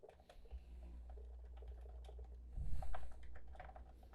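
Soft, muffled keystrokes patter steadily on a cheap budget gaming membrane keyboard, quiet and close, with a slightly busier burst partway through.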